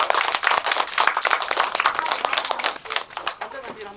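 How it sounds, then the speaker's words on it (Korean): Audience applauding film directors at the close of a post-screening Q&A at a small film festival, dense sustained clapping through the whole stretch with a voice faintly underneath. "감독님들께 다시 한번 큰 박수 드리면서 자리 마무리하겠습니다"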